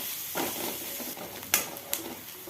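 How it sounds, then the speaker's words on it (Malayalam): Finely chopped onions sautéing in two tablespoons of oil in a kadai, a steady soft sizzle with a few sharp clinks of a spoon stirring against the pan. "2 സവോള നൈസായി അരിഞ്ഞതും ചേർത്ത് ഒന്ന് വാട്ടിയെടുക്കാം"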